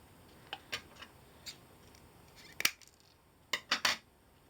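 Scissors snipping through lengths of material for a wind and sun hat, a few quiet separate cuts spread across the clip with a sharper double snip near the end, close up and alone in a quiet room.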